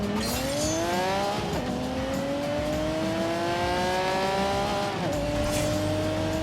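A car engine held at full throttle in The Grand Tour racing game climbs steadily in pitch, dropping back briefly at two gear changes. The sound is loud and close, with tyre noise underneath and no talking.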